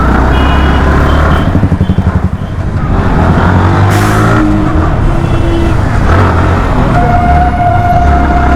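Busy city traffic with rumbling engines, a steady chorus of horns and a repeating reversing beep, plus a brief siren-like tone, all dense and continuous without any talk.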